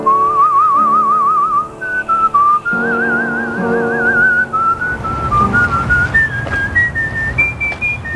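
A person whistles a melodic tune with warbling vibrato, clear and close, with a low hum underneath, in Lewisburg, North Carolina.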